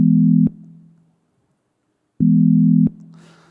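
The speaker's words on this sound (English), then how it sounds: "we can also create a chord with these oscillators" A synthetic chord built from three summed sine wave oscillators sounds as a pure, steady electronic tone, played twice in short bursts separated by silence, clean and alone.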